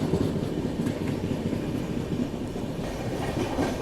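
Vikramshila Express passenger train rolling slowly past a junction without stopping, a steady rumble of carriage and rail noise with soft clickety-clack from the wheels, heard from inside and continuous throughout.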